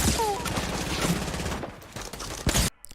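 Gunfire from a heavy shotgun and other pump shotguns in a video game, with rapid dense bursts of shots and impacts filling the clip before cutting off abruptly near the end.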